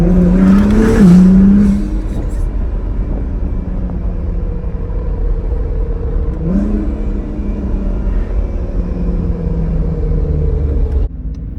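A twin-turbo Acura NSX drives with a steady, loud engine rumble, revving up sharply near the start and again around the middle, then settling into a continuous drone.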